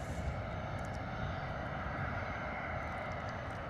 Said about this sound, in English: we're looking at our gorgeous Bombardier Challenger 350.